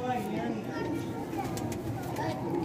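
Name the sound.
pigeon cooing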